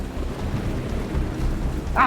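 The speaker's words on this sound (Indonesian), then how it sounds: "pakai hujan segala lagi." Steady rain falls in a continuous hiss with a low rumble of thunder underneath, fairly loud and unbroken, a faint higher sound rising at the very end.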